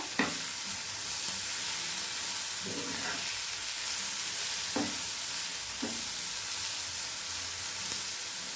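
Ingredients and plenty of fresh coriander are stirred together in a pan over a steady soft sizzle, with a few scraping knocks of the spoon in the quiet kitchen.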